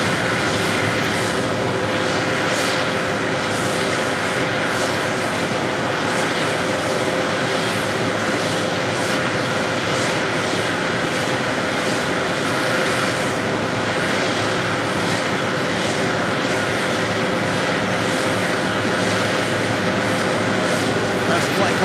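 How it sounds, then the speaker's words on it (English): A Boeing 777-300ER airliner arriving from London at JFK roars as a steady, loud, broadband jet rush that holds constant throughout, with no voices. "That was the flight coming in from London, flight 101 and a 777-300ER."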